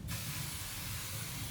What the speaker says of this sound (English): we're going to use a little cooking spray, and we're going to just spray the